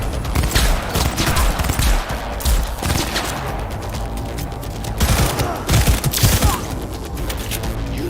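Sustained bursts of gunfire in Cyberpunk 2077, rapid automatic shots and loud cracks overlapping in a dense, chaotic firefight with some clanking mechanisms, no talk.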